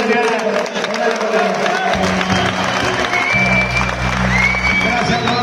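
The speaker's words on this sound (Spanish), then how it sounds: "Un aplauso de parte de ustedes." Audience at an event launch applauding and cheering, a broad crowd wash of clapping blended with voices and background music, loud and sustained.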